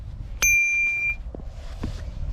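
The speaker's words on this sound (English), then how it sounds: "Pingy bell." A single bright bicycle bell ping, struck once near and loud, its metallic ring lingering for under a second before fading into a quiet room, with a few soft knocks afterward.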